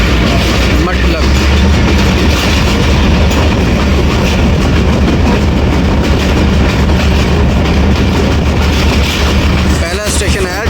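A 2 Down shuttle train rolls through Matlak station on the Lala Musa to Sargodha line, a loud, continuous rumble of wheels and carriages with steady clickety-clack, heard close from on board, with a faint voice mixed in.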